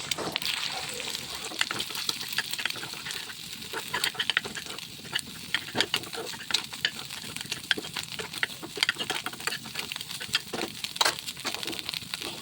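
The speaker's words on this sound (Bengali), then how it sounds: "আর এখানে আরেকটা একটা ছোটো ফ্রাই প্যানে দিয়ে দিলাম পেঁয়াজ আর ডিম।" Onion and egg fry in a small frying pan with a continuous crackling sizzle, punctuated by frequent scraping stirs of a spatula, close and fairly loud throughout.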